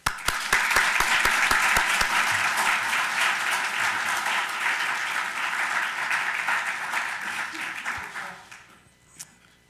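Sustained audience applause welcoming a lecturer at a law school lecture, a dense steady clapping from a large crowd that fills most of the clip before thinning out and fading near the end.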